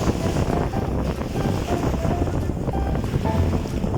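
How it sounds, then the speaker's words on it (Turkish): Strong wind at the sea buffets the microphone in a constant roar, with the wash of sea waves and water beneath it, no pauses throughout. "bugün şansımızda çok fazla rüzgar var. Dalga var."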